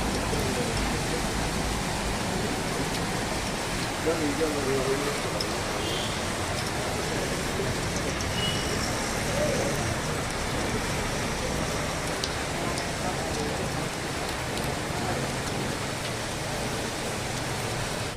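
Heavy, steady downpour in Satpur during the Ganesh festival, a dense continuous wash of rain hiss that stays loud and unbroken throughout, with no voices.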